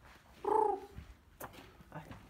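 A single faint, brief cooing call, likely from one of the many pigeons roosting inside an abandoned fort, followed by soft scattered rustles and knocks in a quiet, echoing space.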